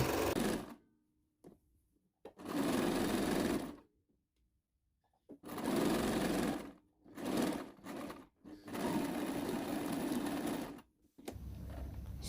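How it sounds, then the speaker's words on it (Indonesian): Sewing machine stitching a women's garment during an alteration, running in repeated bursts of steady mechanical whirring and needle chatter, separated by short silent pauses, close and fairly quiet with no talking. "Sudah selesai menjahit, kita lanjut ke obras badan kiri dan kanan."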